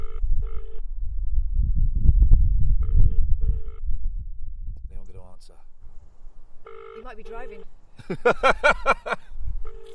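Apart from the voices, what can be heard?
telephone ringing tone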